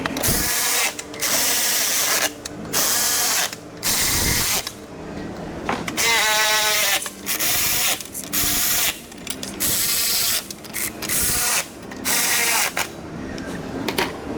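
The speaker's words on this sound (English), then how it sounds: "Tighten down all those 10mm bolts on the lower molding." Power tool driving 10mm bolts into the lower bumper molding of a Ford F-150 Tremor, loud close whirring bursts of about a second each, repeated around a dozen times with short pauses and ratcheting clicks.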